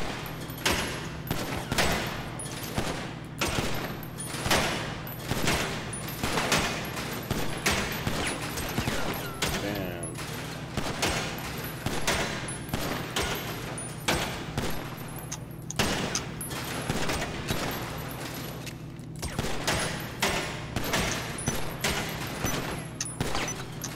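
Repeated pistol shots at a shooting range in GTA 5 Online, sharp reports fired in quick succession with brief pauses, steady and close throughout over a low background hum.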